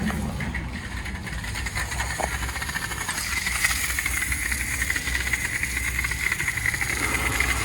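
A car wash dirt remover sprayer runs with a steady machine drone and a hissing spray layered on top, continuous and moderately close, with no clear talk.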